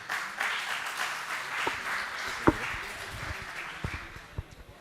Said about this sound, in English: Please have a round of applause for Daksh.